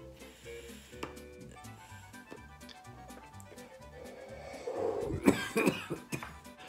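A person coughing harshly after smoking cannabis, a burst of several rough coughs late on over quiet background music.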